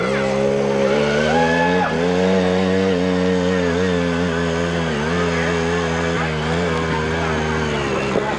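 A hillclimb motorcycle at full throttle at an AMA hillclimb event in Monson, Massachusetts, its engine roaring loud and continuous with pitch rising and dipping through gear changes, with a voice faintly underneath.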